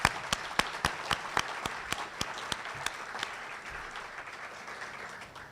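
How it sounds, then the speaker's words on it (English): Luncheon guests at a charity event give a fairly soft round of applause, with a few distinct nearby claps standing out over a dense, steady wash of clapping that gradually thins out. "If we could please give them a round of applause"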